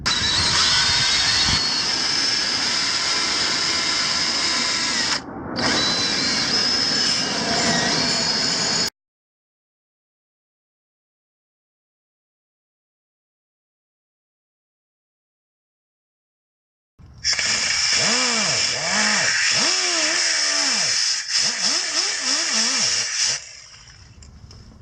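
A power drill fitted with a wire brush cleans a car's rear caliper bracket, whirring and scraping in two loud bursts separated by a long silent gap, with no talking.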